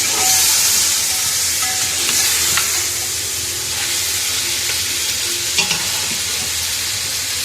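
Beef pieces with ginger fry in a pot for yakhni pulao, giving a loud, steady broadband sizzle and hiss throughout, with a few soft stirring knocks and no talking.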